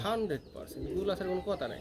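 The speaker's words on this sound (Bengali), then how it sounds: "শুধু একটু ডাকটা শুনেন আপনারা হ্যাঁ এরকম গোল্লা কবুতর" Bangla Golla pigeons coo in repeated soft, throaty phrases, close and clear, with someone talking over and between the calls.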